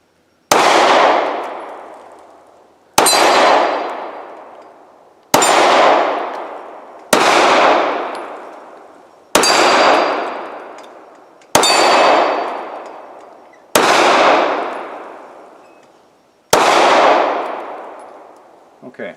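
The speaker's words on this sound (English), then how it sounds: "I'm just going to see how I can shoot with it" Eight loud pistol shots from a Glock 43 fitted with a Shield Arms Z9 magazine, fired with reloaded ammunition, each a sharp crack with a long ringing decay, spaced about two seconds apart.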